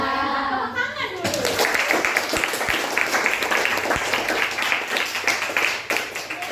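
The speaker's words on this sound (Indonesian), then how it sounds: "Tepuk tangan dulu." A classroom group of students claps together during an academic supervision coaching session, the clapping starting after a brief stretch of a voice and continuing steadily with some chatter mixed in.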